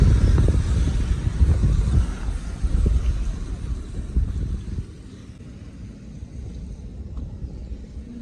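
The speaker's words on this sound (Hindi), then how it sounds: "और आपको पता है कितनी ठंडी ठंडी सी हवा चल रही है" A cool breeze blows outdoors, buffeting the microphone with a steady low rumble that is stronger and gustier for the first five seconds, then settles into a softer, calmer whoosh.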